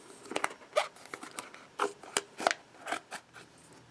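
Scissors snip through a piece of plastic container to cut out a square, a series of close, crisp cuts in an irregular rhythm, about a dozen short snips with brief pauses between.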